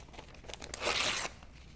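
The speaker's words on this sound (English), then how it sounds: "just rip different shapes" Paper is ripped by hand into loose shapes, a short burst of crisp tearing and crinkling that swells to a loud rip in the middle before fading, close up and with no speech.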